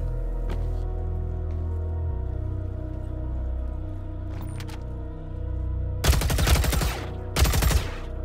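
Gunfire in Star Citizen arrives as two dense, loud bursts of rapid automatic shots near the end, after a stretch of low steady hum with a few faint clicks.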